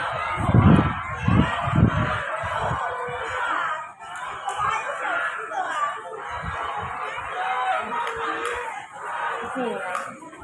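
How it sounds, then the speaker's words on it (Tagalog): A flock of geese honking loudly and repeatedly up close at a railway park in Chaozhou, Taiwan, overlapping calls with a few louder bursts at the start, and some voices mixed in. "Yan ang mga gansa."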